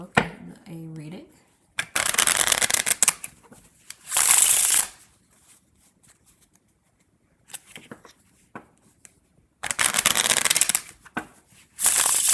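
Uusi Pagan playing cards are handled, shuffled and laid down in several brisk bursts of papery riffling and flicking, separated by quiet pauses, with a voice speaking briefly at the start.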